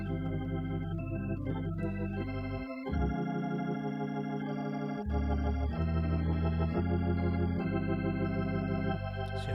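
Hammond B3 organ playing sustained gospel chords in the Brooklyn style, with a full, rich tone, shifting chord voicings and a deep bass line. The sound is steady and loud throughout, with no talking.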